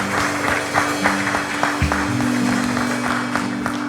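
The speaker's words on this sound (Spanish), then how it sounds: "Dele ese aplauso a Dios" A church congregation claps in quick, uneven bursts that carry on for a few seconds, while sustained instrumental tones play underneath at moderate volume.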